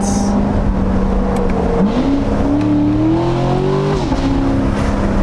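A Corvette Stingray with a loud exhaust accelerates hard. The roaring engine climbs in pitch, drops sharply at two quick upshifts, then climbs again, loud and close throughout.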